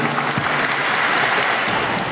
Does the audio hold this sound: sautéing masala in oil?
no